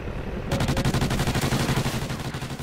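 Rapid automatic gunfire in a video game, a loud sustained burst of closely spaced shots starting abruptly and rattling on continuously.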